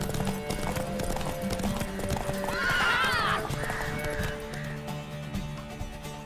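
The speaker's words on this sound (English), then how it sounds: "keep the horse in full gallop" Horse galloping in The Witcher 3, with a steady run of clip-clop hoofbeats under game music, a loud neigh in the middle and faint voices.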